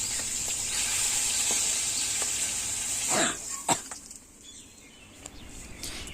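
Fish frying in hot oil in a pan at home, a bright steady sizzle for about three seconds that then quiets as the pieces are lifted out, with a few brief clatters and faint scrapes.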